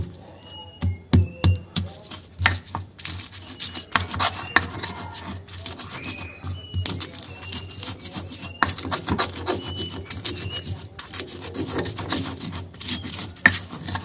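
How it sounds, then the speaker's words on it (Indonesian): Spice paste for stir-fried papaya leaves is ground with a stone ulek mortar, heard as faint, steady rubbing and scraping broken by several sharp knocks near the start. "Ini kita ulek sampai halus."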